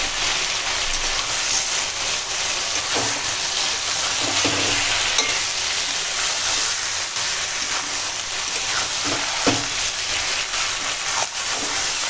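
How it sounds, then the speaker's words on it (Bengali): Chicken meat stir-frying with salt, turmeric, chilli and Kashmiri chilli powder for a kosha curry, a steady close sizzle with occasional scraping and stirring throughout. "এবার মাংসখানা কষাবো।"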